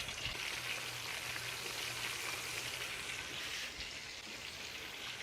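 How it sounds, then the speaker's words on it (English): Steady crackling sizzle of chicken wings frying in hot oil in a discada, a dense hiss with scattered pops, close and constant throughout. "So you can see we're frying these straight up."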